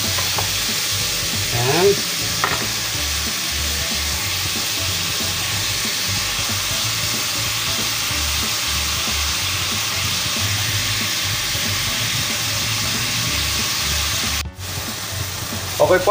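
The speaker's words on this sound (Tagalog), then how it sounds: "lulutuin po natin ng todo yung ating kamatis para po lumabas yung katas." Tomatoes sizzle hard in a pan of hot oil, making a dense, continuous frying hiss with occasional stirring scrapes. A voice briefly speaks near the start and again at the very end.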